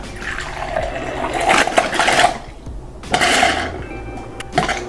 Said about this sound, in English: let it run for about 6 to 8 minutes, which is about 3 to 4 gallons of water to flush the filter out